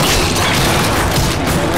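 Heavy ground pound attack in The Darkness 2, a loud dense boom with crashing debris filling the whole moment at close range, no talking.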